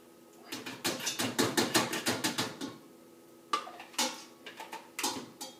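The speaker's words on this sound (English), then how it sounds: "So I'm gonna come over here, dump this in the pot." Ingredients for a peach BBQ sauce tipped into a cooking pot: a quick, rhythmic run of clattering knocks, then a few scattered taps after a short pause.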